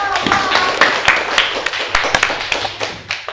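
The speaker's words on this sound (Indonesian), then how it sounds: "Tepuk tangan." Classroom clapping after a student group's presentation in a lesson, a burst of scattered hand claps with sharp taps, some voices in the room underneath.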